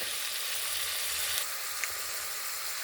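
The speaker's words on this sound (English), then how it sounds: "Right now I'm starting with rendering down some bacon with butter and garlic" Bacon rendering with butter and garlic in a pan, a steady, dense sizzle and crackle running unbroken throughout, close and moderately loud with a faint clink partway through.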